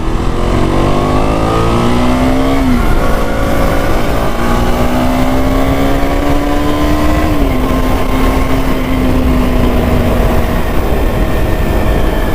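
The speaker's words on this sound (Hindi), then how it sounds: "अंडर बेली एग्जॉस्ट का फ़ायदा यही है कि इसकी आवाज़ आपको बहुत ही ज़ोरदार सुनाई दे रही होगी" A KTM RC 200 MotoGP edition motorcycle with an underbelly exhaust, revving hard and loud and close for a long stretch, its engine note rising and falling between throttle blips over a steady roar, with no voices.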